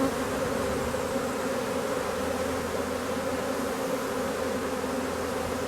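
A swarm of honeybees returns to a hive after swarming, making a steady, dense buzzing drone that fills the scene at constant loudness throughout, with no voices.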